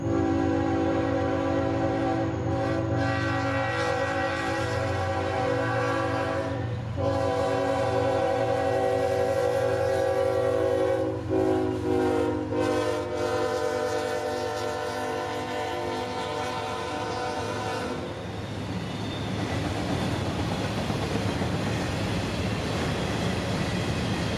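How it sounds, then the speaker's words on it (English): A southbound CSX Q203 freight hauling an 8,000-foot string of loaded auto racks behind a single ET44AH locomotive sounds a long, loud horn, then rumbles and clatters past close by, fading into steady wheel noise. "this is his counterpart train, Q203, southbound loaded auto racks from Louisville to Baldwin"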